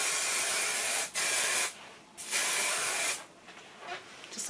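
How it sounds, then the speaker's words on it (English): Hairspray bottle sprayed onto hair in three short hissing bursts, close and fairly soft, with brief pauses between them and no talk. "some hairspray. Just shake the bottle and spray it."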